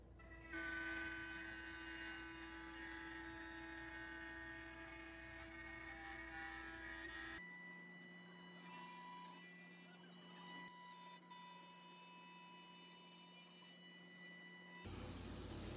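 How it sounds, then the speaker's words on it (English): A CNC router cuts a walnut bass guitar body with a steady, high-pitched tonal whine. The tone shifts at about midway, quiets slightly, and then comes back louder near the end, with no voices. "I could send the file to a CNC router machine and cut out the body with that."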